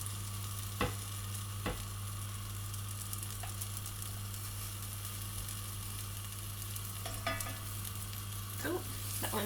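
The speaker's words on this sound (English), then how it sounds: "Good little sizzle." Frying food sizzles steadily in a pan during vegetarian cooking, with occasional sharp scrapes and clicks from stirring breaking through the constant hiss.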